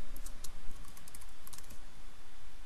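Rapid key presses on a Konica Minolta bizhub 601/751 copier control panel, a steady run of soft clicks close by with no voices.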